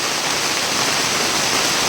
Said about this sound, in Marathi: पावसाला किती जोर आला आहे बघा, जोरात पाऊस आला आहे